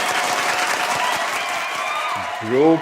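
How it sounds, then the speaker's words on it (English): Audience applause for a Sanskriti Super Idol 2023 award winner at a cultural finale, steady dense clapping throughout with a host's voice speaking over it near the end. "Hearty applause to Prajnay."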